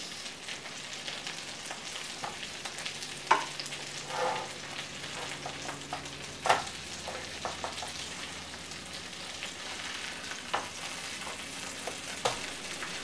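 Shrimp burger patties fry in a pan with a steady close crackling sizzle throughout, punctuated by a few sharper pops and light scraping clicks.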